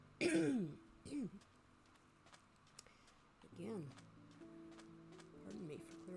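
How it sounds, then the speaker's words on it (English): A man clears his throat twice, loud and close, with a first rough burst and a shorter one after, followed by quieter throat noises and faint rustling in a quiet room. "Pardon me for clearing my throat."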